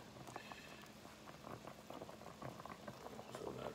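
Bagels boil in a pot of water, giving a quiet, continuous bubbling and burbling with small pops throughout and no voices.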